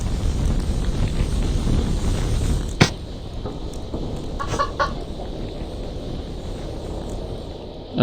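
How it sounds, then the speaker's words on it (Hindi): A chicken clucks in the Evil Nun video game, a few short clucks over a steady game background rumble, with a sharp click near the middle and no talking. "अबे मुर्गे इधर आ।"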